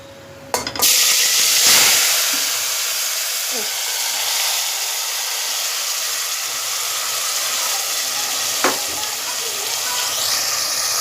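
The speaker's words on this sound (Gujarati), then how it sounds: "વઘાર ધીમે કરું, બહુ અવાજ આવે છે." Spices hit hot oil in a tempering for vegetable pulao, bursting into a loud sizzle that settles into a steady, close hiss, with a couple of sharp clicks along the way.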